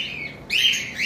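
Green Fischer opaline lovebirds give high, close chirps, a thin call that rises into a louder burst of bright tweeting partway through.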